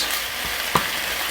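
Chicken and eggplant sizzle in hot avocado oil, a dense, steady frying hiss broken by a single sharp clack of a utensil against the pan partway through.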